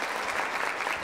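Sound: audience applause in a theater

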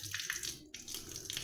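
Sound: water draining away

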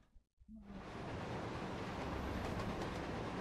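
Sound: train speeding up, from the video game Resident Evil Zero

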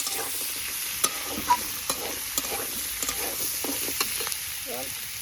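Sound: stirring ginger paste into frying snail masala

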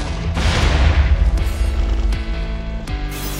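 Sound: cannon blasts clashing in Minecraft Jujutsu Kaisen mod, video game

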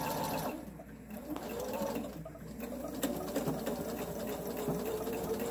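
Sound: sewing machine stitching a pillowcase

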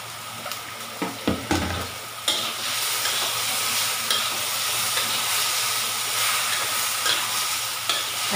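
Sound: stir-frying hairy gourd with pork and vermicelli

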